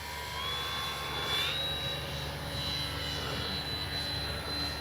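Dynam Bf-109 RC warbird model flying after takeoff, its electric motor whine faint and distant, drifting slightly in pitch against a steady outdoor background hum, with no talk.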